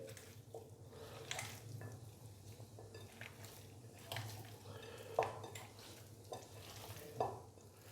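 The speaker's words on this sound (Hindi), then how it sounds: "स्पाइसेस डालने के बाद अभी मैं इसको अच्छे से मिक्स करूंगा" Raw chicken gets mixed with turmeric, red chili and other spices in a bowl, giving soft wet squelches and scattered clinks against the dish over a steady low hum, with no one talking.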